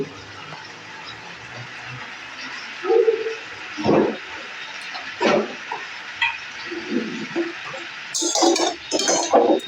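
Pea greens in a pan, with a little sugar added, are stirred with a utensil that gives a few separate clinks and scrapes against the metal over a soft background hiss; no one speaks.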